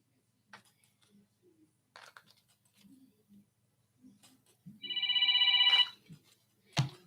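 A telephone rings once in a steady, bright burst for a radio call-in show, surrounded by faint taps and brief murmurs of voices before and after.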